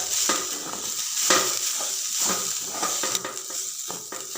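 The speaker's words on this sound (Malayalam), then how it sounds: "ഒന്ന് ഇളക്കി കൊടുക്കാം." Spiced chicken for chicken thoran, seasoned with garam masala and salt, is stirred in a pan, giving a steady, close sizzle broken by repeated scraping strokes of a utensil.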